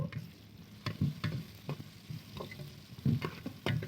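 Tomato frying in a pan for bread egg curry, a soft continuous sizzle broken by repeated close stirring knocks and scrapes of a spoon, fairly quiet, no voices.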